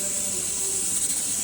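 Steam hisses steadily from a pressure cooker on a home kitchen stove, a continuous bright hiss with a faint whistling tone beneath it, close and sustained for a brief moment.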